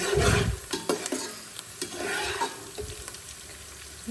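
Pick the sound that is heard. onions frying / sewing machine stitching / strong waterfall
onions frying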